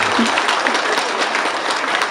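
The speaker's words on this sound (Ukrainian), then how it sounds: "Дружніше, дружніше, не шкодуйте оплесків" Guests and parents at a 2015 graduation ceremony break into dense, steady applause, a loud, continuous wash of many hands clapping that fills the hall for the whole stretch.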